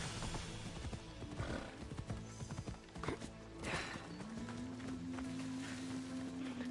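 Horse hooves from Assassin's Creed Odyssey clop in a steady rhythm, mixed with a whinny and game ambience, moderately loud with no talk.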